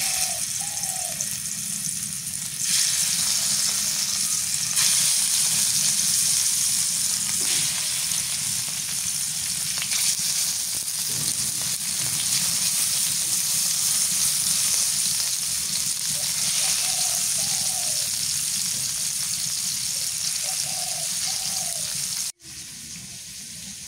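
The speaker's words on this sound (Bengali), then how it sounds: "মাছ হচ্ছে ঝাটকা, ভাজা বানাবো টাটকা।" Young hilsa (jatka) fish sizzles steadily in hot oil, a loud continuous hissing crackle that holds for a long stretch, broken by a brief clatter near the end.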